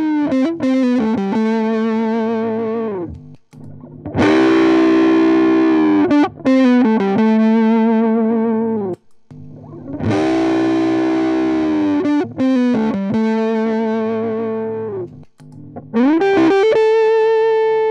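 Heavily distorted electric guitar on the neck pickup through a Big Muff fuzz pedal, playing sustained chords and riffs with a warm, rounded tone, loud and continuous with brief pauses between phrases.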